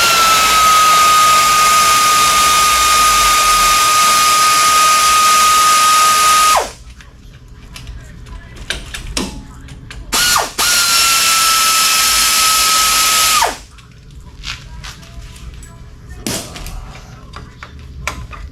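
A high-pitched pneumatic power tool whines loudly and steadily for several seconds while brake calipers come off a Dodge truck in a repair shop, then stops, runs again for about three seconds, and cuts out, leaving clanks and light handling noises.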